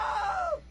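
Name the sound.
scream of a character slipping into a table saw, from a video game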